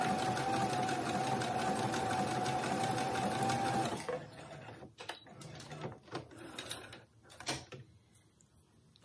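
A sewing machine runs a stretch stitch over fabric, a steady loud whirring hum for about four seconds that then stops, followed by faint clicks and handling noises.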